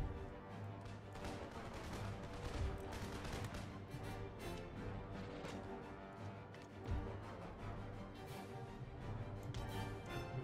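Howitzer artillery fire in Empire: Total War amid a land battle against Prussia, faint distant crackle of gunfire and occasional thuds layered over steady tonal battle music, quiet and continuous.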